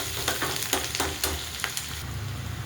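Cumin, mustard seeds and onion crackle and sizzle in hot oil, a dense close hiss with several soft stirring scrapes and pops over the first two seconds, then steadier frying; no voices.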